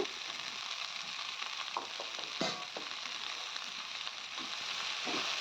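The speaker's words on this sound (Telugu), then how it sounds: "నీరంతా బయటకు వచ్చే విధంగా వేపిస్తూనే ఉండాలి" Turmeric, ginger-garlic paste and green chili paste frying in a pan, a continuous close sizzle and hiss with a few faint stirring scrapes, no talk.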